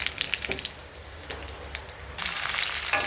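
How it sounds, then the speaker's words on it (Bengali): Cumin seeds and bay leaves crackle and sizzle in hot oil, with sharp pops at first, then a fuller continuous hiss, close by. "তেল গরম হয়েছে, জিরে তেজপাতা ফোড়ন দিয়ে বসিয়ে দেবো।"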